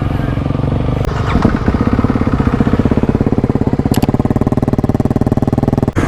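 Kawasaki KLX351 dirt bike engines, 35 hp, running close by with a loud rapid thumping idle that steadies into an even pulse after a brief rev, with a few clanks mixed in.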